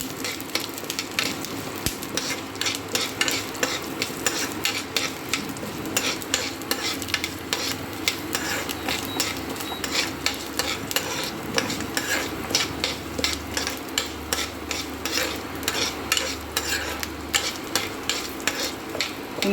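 Ginger and garlic fry in hot oil, a dense close sizzle accompanied by rapid regular scraping and clinking of a spoon stirring in the pan, continuous with no voices.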